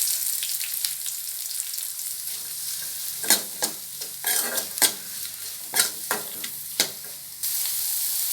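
Garlic, dried red chillies and chopped onion sizzle steadily in a hot pan, with a spoon scraping and stirring in sharp, irregular strokes over the constant frying hiss.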